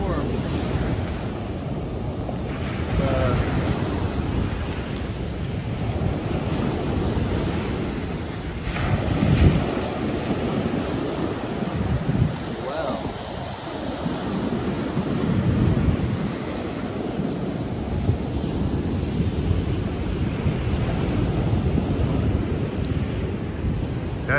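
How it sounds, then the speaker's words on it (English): Ocean waves break on a shore in strong wind in Antique, Philippines, a steady roar of surf with heavy wind buffeting the microphone throughout and a few louder crashes. "It's like a wave break."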